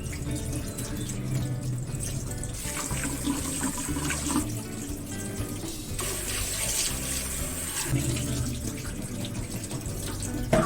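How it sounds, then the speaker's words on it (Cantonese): Sliced pork heart, salted and coated in starch, is rinsed under a running kitchen tap; water splashes steadily into the sink with shifting, uneven patter as the meat is moved, continuous and fairly close, no talk. "咁拎去水喉下邊沖洗。"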